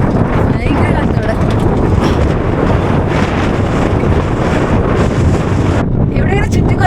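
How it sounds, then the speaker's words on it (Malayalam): Strong wind gusts over misty hills at Kuttikkanam buffet the microphone, giving a loud, constant roar throughout. "ഭയങ്കര കാറ്റവിടെ"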